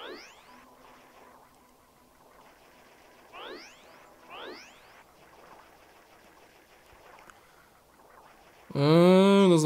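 Strange bird calls in Zelda: Majora's Mask 3D: several quick rising chirps spread across a quiet game scene, followed at the very end by a loud, wobbling warbling cry.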